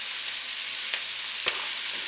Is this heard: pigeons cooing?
no